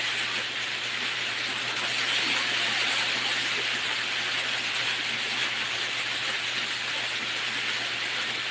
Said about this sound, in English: Oh, oh, raining here.